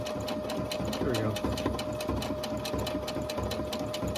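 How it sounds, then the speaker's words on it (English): A sewing machine stitching at a fast, even rhythm with a steady motor hum, running close and continuous while a person talks over it. "if you ever want to know what happens when you don't put the foot down on your sewing machine"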